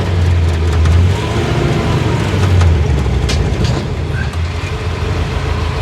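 A 1953 Pontiac Chieftain cruises down the road with a loud, steady low engine rumble and road roar, swelling slightly at times, heard from inside the car with no talk.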